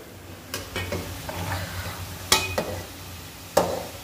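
A boy stirs food frying in a pan, a low sizzle beneath three or four distinct scraping strokes of the spoon against the pan, close and moderately loud.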